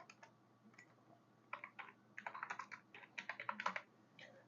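Computer keyboard typing in bursts of quick, crisp key clicks, close and quiet, with short pauses between clusters of keystrokes.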